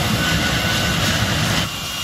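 A jet car's engine roars in a loud, steady sustained blast that stays close and dominant before easing slightly near the end.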